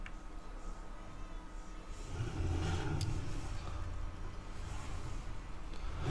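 Engine of an articulated tractor in a farming video game, a steady low rumble that swells louder partway through and holds a constant revving drone to the end, with no talking.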